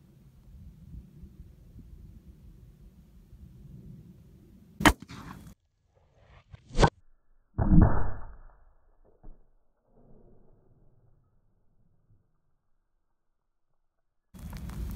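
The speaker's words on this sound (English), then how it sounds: "I'm gonna shoot it one time with the Smith and Wesson Model 500. Then I'm gonna shoot it with the 50 BMG." Two heavy gunshots into drywall, first from a Smith and Wesson Model 500 revolver and then from a 50 BMG rifle: sharp, loud, isolated reports a couple of seconds apart, with a low booming blast after, then quiet.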